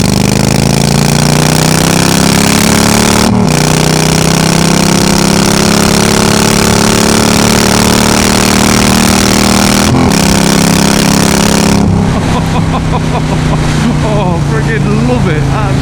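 A 1300cc V-twin motorcycle accelerates with a loud, close engine roar that climbs slowly in pitch. Two brief breaks, likely gear changes, interrupt it before the tone shifts near the end.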